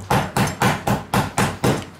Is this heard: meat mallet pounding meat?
yes